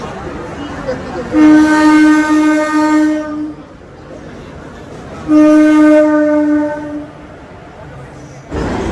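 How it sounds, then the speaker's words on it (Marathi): A passenger train pulling into a platform at a station, two long loud blasts of its horn separated by a pause, over the rumble of rolling wheels and station noise. "चला बघा ट्रेन आली"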